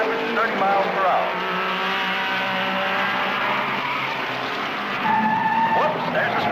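Race cars sliding through corners on a wet track at over 130 mph, a steady engine roar with tire hiss and brief squeals, under a commentator's continuous talk.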